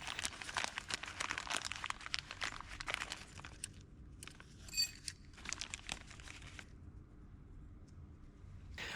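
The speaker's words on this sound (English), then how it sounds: "we will take out of the packaging the two new springs that arrived with the kit" New drum brake springs from a replacement kit for a Suzuki Grand Vitara are pulled from their packaging, producing close, crinkly plastic rustling and a few small metallic clicks that taper into quiet handling.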